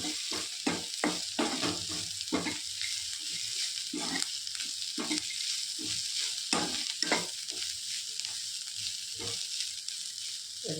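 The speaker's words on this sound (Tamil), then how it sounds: "தேங்காய் போட்டு இது நல்லா வதக்கணும்" Grated coconut and banana flower sauté in a hot pan, a steady sizzle broken by repeated scraping stirs in an uneven rhythm, close and clear, with no talking.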